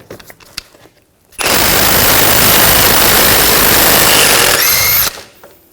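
An impact wrench with a 36mm 12-point socket spins off the rear wheel hub nut on a 2000-2006 BMW X5, a loud continuous rattling hammer lasting several seconds after a few clanks, then cutting off sharply.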